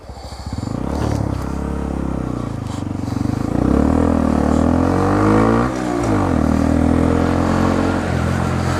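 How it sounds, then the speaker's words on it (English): A Honda Grom motorcycle is ridden on the road, its small engine revving up and down through gear changes with a buzzy, rising and falling note, close and loud under wind noise. "I'm on a bike. I can't really just jump a red light."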